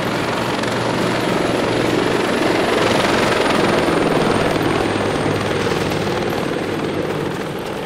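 A helicopter's rotor in Arma 2 thumps continuously and loudly nearby, a steady droning whir with no break.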